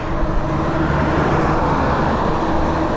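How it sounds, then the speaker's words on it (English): Road traffic rushes past at a busy time of day, heard from an e-bike in motion as a loud, continuous roar of cars and larger vehicles close by. "Traffic out right now."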